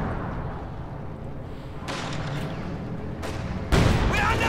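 Artillery shells land in a Company of Heroes 2 battle: heavy rumbling booms and sharp blasts burst out over a continuous low din of combat.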